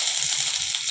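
Curry leaves dropped into hot cooking oil already holding mustard seeds and urad dal give a steady, bright sizzle, a close, continuous frying hiss for about a second with no talking.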